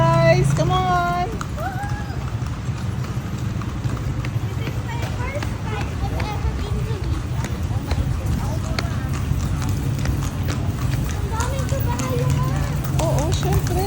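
Horse hooves clip-clopping along a road during a trip from Bulacan to Vigan, a quick steady rhythm of hoof strikes close by, heard beneath people chatting and background noise throughout.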